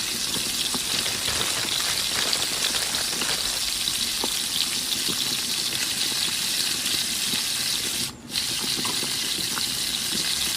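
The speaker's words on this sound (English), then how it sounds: "Deep fry the chicken wings until golden brown" Chicken wings deep fry in hot oil over low-medium heat, giving a dense, steady bubbling sizzle that briefly drops out near the end, with no speech.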